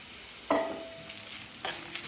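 Turmeric pickle sautéed and stirred in sesame oil in a pan: a sharp scrape of the spoon, then a soft sizzle and a second stirring scrape, close and fairly quiet.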